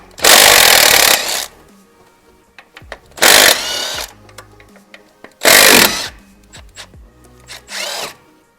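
A power tool whirs in three loud bursts of about a second each, with a shorter fourth one, as it backs out the 15mm top mount bolts on a 2006 Chevrolet Equinox during a serpentine belt change. Metallic clinks and handling noises fill the gaps between bursts.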